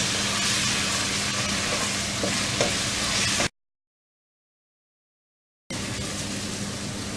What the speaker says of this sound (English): Add ginger garlic paste to it. Let it cook for 1 or 2 minutes.